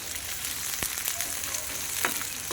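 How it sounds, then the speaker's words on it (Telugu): Chopped ivy gourd sizzles in hot oil on a low flame, a steady close frying hiss broken by occasional crisp pops and a faint stirring scrape, with no one talking. "వేగుతుంది."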